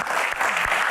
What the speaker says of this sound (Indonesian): Tepuk tangan buat box kepo.